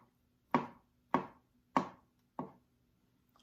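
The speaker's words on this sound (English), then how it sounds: "I'm going to mince them. So I'll slice it really thin" A knife slices vegetables for a vegetarian Japanese udon soup on a cutting board, making four crisp, evenly spaced chops, close and clear against a quiet background.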